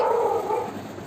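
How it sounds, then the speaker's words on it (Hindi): Dogs barking at night, a steady run of overlapping barks and yips heard from a moderate distance, filling the short stretch without any voices. "रात को बनानी तो कुत्ते भौंक रहे लाइक।"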